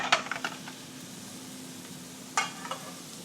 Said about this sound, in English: Throw a couple pieces of bacon on this thing